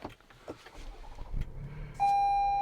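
A 2022 Toyota Highlander XLE AWD with its V6 comes to life at the press of the start button: soft cabin clicks and a low rumble, then a steady electronic tone as the engine settles into a quiet idle.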